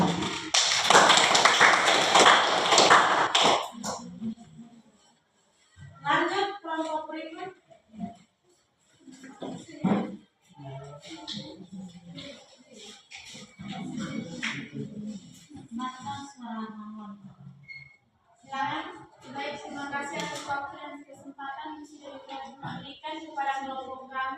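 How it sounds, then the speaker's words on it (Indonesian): Students in a teacher-training class in Merauke clap loudly for about four seconds after a group presentation. Speech follows the clapping, and a few scattered taps sound between the talking. "Tepuk tangan dulu."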